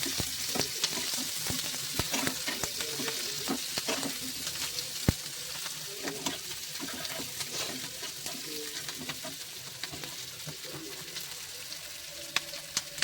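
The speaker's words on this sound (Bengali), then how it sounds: "তারপর দিয়ে দেবো এই যে পেঁয়াজ, কুচি করে রাখা পেঁয়াজ আর ক্যাপসিকাম।" Chopped onion and capsicum sauté in a hot pan, with a steady close sizzle and frequent sharp clicks and scrapes of stirring throughout, no voices.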